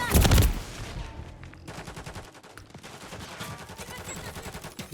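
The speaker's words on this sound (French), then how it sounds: "J'essuie des tirs." Rapid automatic gunfire from the video game Call of Duty Modern Warfare 3, a loud opening burst followed by sustained dense rattling shots and impacts continuing steadily throughout.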